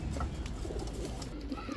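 Bombay pigeons coo softly in low, throaty murmurs that run steadily through the whole moment, with a faint bird chirp or two near the end.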